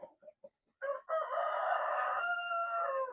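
A Rhode Island Red Mahogany breeder rooster in a backyard farm gives a few short clucks, then a long, clear, drawn-out crow, close and fairly loud against a quiet background.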